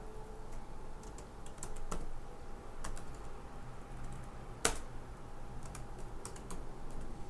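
Typing on a computer keyboard while entering text into an Excel spreadsheet, light irregular key clicks over a soft background hum, with one sharper tap standing out, quiet and close, no speech.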